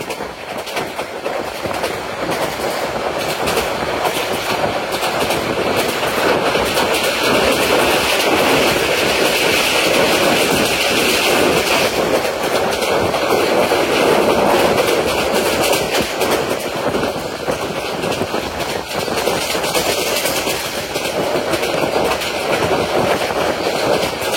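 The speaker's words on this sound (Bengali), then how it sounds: "আর আমাদের ট্রেনটি এখন Khanabari railway station through pass যাচ্ছে।" The Mahanagar Godhuli Express train rolls through Khanabari railway station with a loud, steady rumble and a clattering of wheels that continues throughout, heard from on board.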